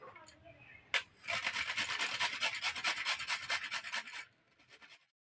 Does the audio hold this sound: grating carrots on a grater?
yes